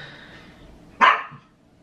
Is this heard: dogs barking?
yes